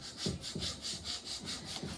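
A small plastic scraper, blue or white, rubs back and forth across a workbench in about six steady strokes, each a close, scratchy rasp with a regular rhythm and no voices.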